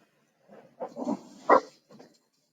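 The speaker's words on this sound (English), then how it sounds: "Those are my dogs in the background, apologise." Dogs barking in the background of a room, a handful of short, muffled barks and yips in uneven bursts, moderately distant and heard alone.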